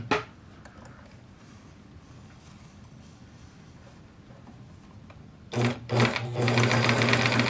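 A Bernina Record 830 sewing machine sits quiet for several seconds, then stitches in short bursts before settling into a louder continuous run, set for a shortened stitch length.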